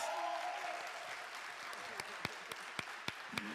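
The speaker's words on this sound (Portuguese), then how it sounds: "Você pode dar uma salva de palmas para eles?" A church congregation applauds, the full clapping thinning out until only a few separate, crisp hand claps remain at the end.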